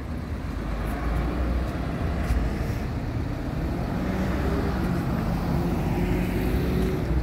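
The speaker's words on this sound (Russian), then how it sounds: "Там едет 103-й автобус." A low, steady engine rumble of a city bus on route 103 rolling past, constant throughout with faint background hiss and no voices.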